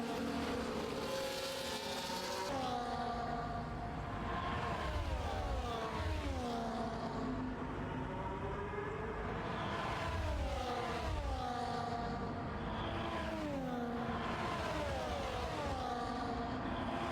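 Race cars in a season 8 Australia round drive closely together on the track, engines rising and falling in repeated revving sweeps as they pass, loud and continuous with no talking.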